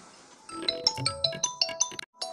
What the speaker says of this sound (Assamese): ফোনটো আহিছেচোন